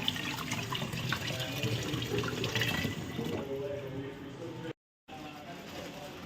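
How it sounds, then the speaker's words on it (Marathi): Sago pearls (sabudana) being rinsed by hand in a bowl of water several times: continuous close sloshing and swirling, with water pouring and splashing, a brief silent gap near the end, then more swishing. "धुवून घ्यायचा साबुदाणा 2-4 पाण्याने स्वच्छ, सफेद पाणी निघेपर्यंत"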